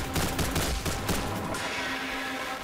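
Oversized bullets fire in the video game House of God as a rapid, loud burst of gunshots that thins into a lingering, ringing tail.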